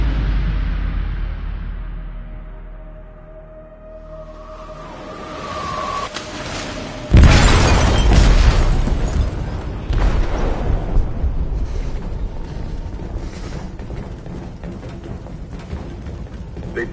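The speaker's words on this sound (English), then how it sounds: "They detonated an explosive in the hold." A heavy explosion bursts in a ship's hold in the video game Detroit Become Human, a sudden loud boom followed by sustained roaring rumble and debris noise amid a tense game soundscape.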